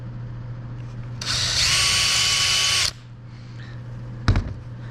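A power drill with a 1/8 inch bit whirs steadily for about two seconds drilling a pilot hole, loud and close, then stops; a brief clatter follows.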